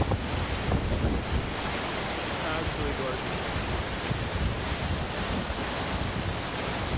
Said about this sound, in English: Cascading waterfalls.